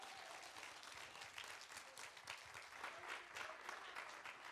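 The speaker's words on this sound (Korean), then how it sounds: "다시 한번 무용단과 또 사물 그리고 태평소한테 박수 좀 부탁드립니다." Steady, dense audience applause fills the hall after a Korean traditional performance of dancers, samul percussion and taepyeongso, heard at a distance and moderately soft, with a faint voice in the background.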